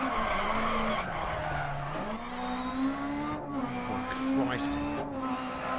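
Renault Clio S1600 rally car in DiRT Rally racing at Lydden Hill, engine holding a steady high-revving drone that dips and climbs with gear changes and tyre skids, under a man's occasional exclamations.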